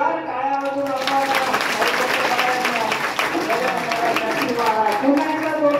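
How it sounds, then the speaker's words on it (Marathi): A hall of students at a guidance talk breaks into steady, vigorous applause that carries throughout while a voice speaks over the clapping. "पुन्हा एकदा जोरदार टाळ्या वाजवा"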